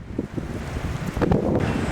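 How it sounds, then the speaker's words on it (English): Strong wind buffets the microphone in a steady roaring rush that swells louder toward the end, with no voices. "Like I said, really windy here."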